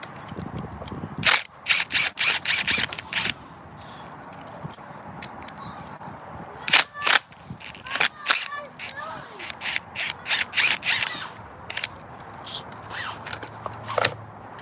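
Hand tools clicking and ratcheting on a BMW X6 while its alternator is being removed, in sharp bursts of rapid metallic clicks separated by quiet pauses, close, with someone talking at times.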